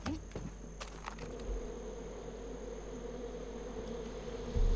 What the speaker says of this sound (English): Oh, bees. I hear bees. Yeah, lots and lots of bees.